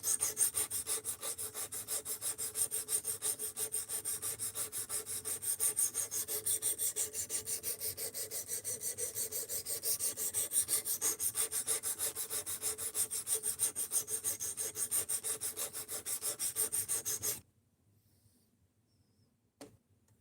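A knife blade is sharpened to raise a burr, a steady close rasping scrape that continues evenly for about seventeen seconds before stopping abruptly, leaving near silence with a faint tap.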